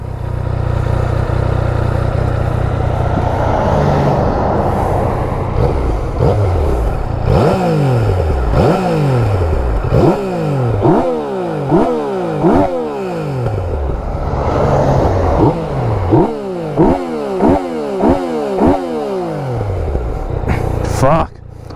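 A loud Yamaha MT-09 motorcycle engine with stock exhaust revs repeatedly in quick rising and falling bursts, with crackling pops from the exhaust between revs; a voice is faintly present.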